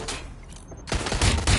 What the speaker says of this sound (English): Getting shot at here!